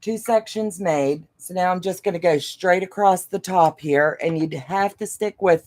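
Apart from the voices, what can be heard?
None of the usual background noises is heard.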